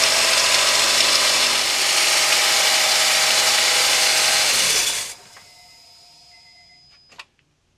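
Whining, grinding power steering pump on a 2002-2011 Honda CR-V purging air from foamy fluid, loud and steady for about five seconds, then dropping to a faint fading whirr with a brief click near the end.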